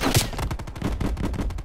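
Rapid gunfire from the video game Call of Duty: Cold War, close and loud, with repeated sharp bursts rattling continuously through the whole stretch.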